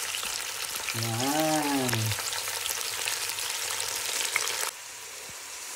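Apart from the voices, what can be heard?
pork belly sautéing with onions and ginger in a pan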